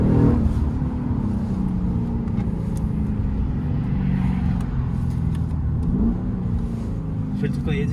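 A Lexus RC F's engine drones and revs while driving, a steady low mechanical roar filling the cabin with slight rises in pitch, and voices talk faintly alongside.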